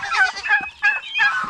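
Domestic turkeys on a backyard farm gobble in three loud, close bursts of rapid, bubbling calls separated by short pauses, with no talk over them.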